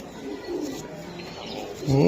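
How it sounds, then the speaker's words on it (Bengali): Young racing pigeons at a large pigeon farm coo softly and continuously, close by, with a louder burst of cooing near the end amid faint background voices. "একটা কবুতর ধর"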